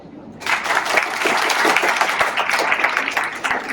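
A class bursts into clapping after a short quiet start, a lively, close, dense round of many hands that carries on steadily to the end.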